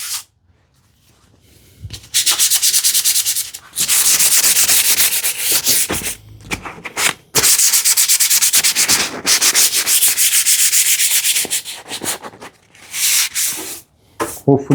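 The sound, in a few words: hand sanding wood with worn-out sandpaper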